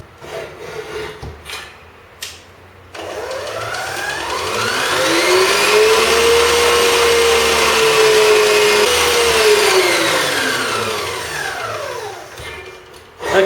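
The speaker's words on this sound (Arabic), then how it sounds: "ثم نواصل الخفق" Electric hand mixer whisking eggs and yolks into a genoise sponge batter: a steady mechanical whir runs for about ten seconds with a rising then falling motor pitch, preceded by brief clattering handling noises.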